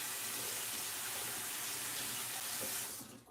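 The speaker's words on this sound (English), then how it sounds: "I gotta rinse this off, otherwise it forms like this oxidation layer that's like just hard to deal with later." A pan rinsed under a running kitchen tap, a steady close hiss and splash of flowing water that cuts off near the end.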